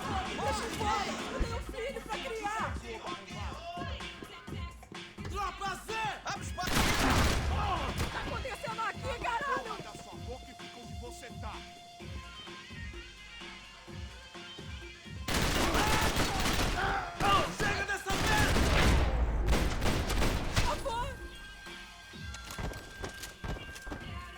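Machine gun fire in the shooter game Max Payne 3 comes in two long, loud, rattling bursts, separated by quieter stretches of game sounds, with someone talking in between.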